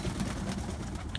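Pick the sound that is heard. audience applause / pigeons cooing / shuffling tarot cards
pigeons cooing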